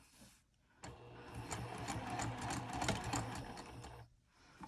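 A sewing machine stitches a seam on a fabric wristlet clutch in one continuous, even run of about three seconds, with quiet pauses before and after.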